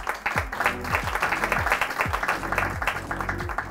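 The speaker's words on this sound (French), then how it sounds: "que je vous prie d'applaudir" An audience applauds the head of a scientific council at a school research anniversary event, dense even clapping filling the room at moderate loudness, sustained throughout with no speech over it.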